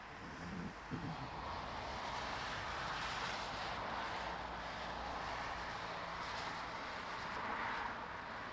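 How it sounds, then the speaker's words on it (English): Aircraft on final approach to Lisbon Airport in rain and wind, a steady distant engine roar with broadband wind and rain noise, no talk. "Aircraft on final."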